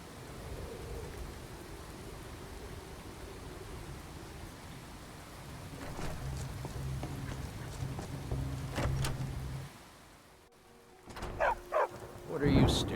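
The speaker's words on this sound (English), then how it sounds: "Rain always makes everything a bit more complicated." Steady rain hiss with low rumbling thunder rolling in the background, followed by a few sharper crackling bursts toward the end, in the video game Skyrim Anniversary Edition.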